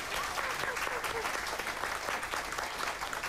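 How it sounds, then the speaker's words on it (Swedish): A television game-show studio audience on a bingo lottery broadcast gives a prolonged, dense round of clapping, steady and full, with faint voices mixed in underneath. "Då får du en stor applåd."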